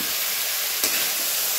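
Food fries in hot oil with salt and turmeric in a kadai, a steady soft sizzle and hiss with a brief louder spit partway through, no talking.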